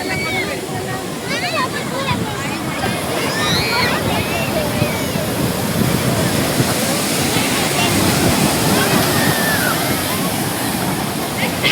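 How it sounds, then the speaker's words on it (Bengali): Sea waves surging up a beach in Kerala, a continuous loud roar of rushing water and surf with wind buffeting, people talking and shouting over it. "এত স্পিডে জল এলো, পুরো উপরে উঠে গেছে। এই দেখুন সব দৌড় দিয়েছে। কি অবস্থা, দুর্দান্ত ঢেউ আসছে।"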